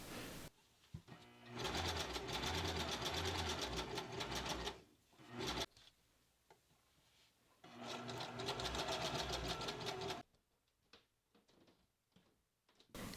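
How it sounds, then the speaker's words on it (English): A sewing machine zigzag stitching the fabric edges of children's pants runs in two loud, fast-rattling bursts of several seconds each, separated by quiet pauses with faint handling noises. "now I'm going to use zigzag stitch to sew the outline first, so it will not fray"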